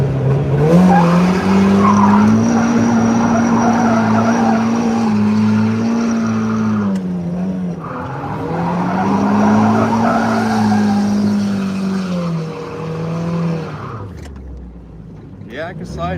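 Bagged Mazda NB Miata with an ISR exhaust revs loudly and slides, with tire squeal and a rising, falling engine note that fades near the end, while someone talks over it.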